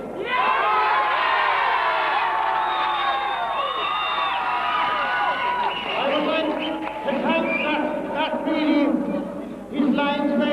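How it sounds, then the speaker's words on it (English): Crowd at a junior football county final in Limerick cheering and shouting, with whoops and children's voices rising over a loud, continuous roar, and a voice speaking amid the noise. "I think that is our round of applause"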